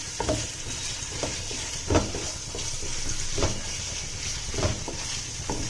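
Ginger-garlic paste frying in a pan for veg dum biryani: a steady close sizzle broken by regular scraping stirs of a spoon.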